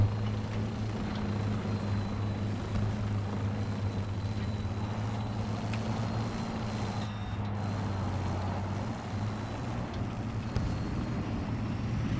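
A drone hovers overhead during an online shooter match, a steady low droning hum with a faint higher whine that holds throughout, close and continuous with no talk.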